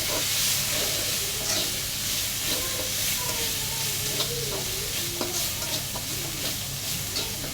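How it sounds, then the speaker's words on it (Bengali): Spices with salt, turmeric, chili, panch phoron and garam masala fry in a pan for a beef tongue and potato curry, a steady close sizzle with scattered stirring scrapes throughout. "সব কিছু একসাথে দিয়ে ভালো করে ভাজা ভাজা করে নিচ্ছি"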